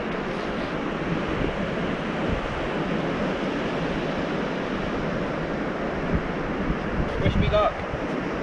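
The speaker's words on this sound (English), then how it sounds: "That tide's pushing in pretty sharp actually already." Incoming tide waves wash steadily onto a beach, a continuous broad surf wash with faint wind, moderately distant and fairly quiet, with a slightly louder surge near the end.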